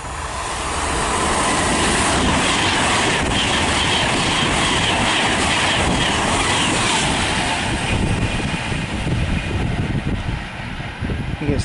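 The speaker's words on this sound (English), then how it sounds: "I think it's the Alstom Pendolino that was." A Virgin Alstom Pendolino running from London Euston to Manchester Piccadilly passes at speed on the West Coast Main Line at Nuneaton, a loud, close rushing roar with rhythmic wheel clatter that holds steady before slowly easing.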